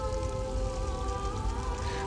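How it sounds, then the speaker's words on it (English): Rain falls steadily in the video game Elder Scrolls Online, a dense even hiss with soft patter over a low ambient drone and faint tonal music, with no voices. "Despite the rain has started."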